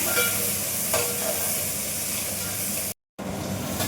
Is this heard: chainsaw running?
no